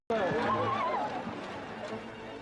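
A horse whinnies during a horse eventing competition, a clear neigh rising and falling near the start, with faint movement and voices behind.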